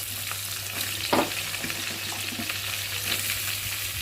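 Potato and plantain pieces fry in a pan with a continuous close crackling sizzle, joined by a brief scrape of stirring and a few clinks, with a low steady hum underneath.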